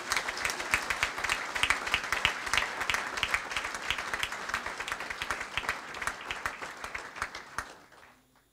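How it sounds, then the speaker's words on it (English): Audience applause for performing Croatian artists at a gathering of the Indian community in Croatia, many hands clapping in a dense, even patter that fades out near the end. "let us first of all give a big applause to all of them"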